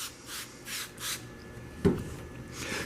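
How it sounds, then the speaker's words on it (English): 1500-grit wet sandpaper on a sanding block rubs over a car's clear coat, giving a steady series of soft, rhythmic back-and-forth scrubbing strokes up close, with one brief sharper knock midway. "take your 1500 wet sandpaper on a block again, and start going back over it"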